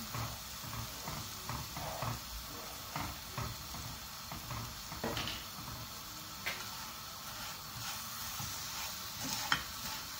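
Vermicelli for Eid sheer khurma being stirred with a spoon as it cooks, heard as a soft steady sizzle with rhythmic scraping and light ticking spoon strokes, quiet and close.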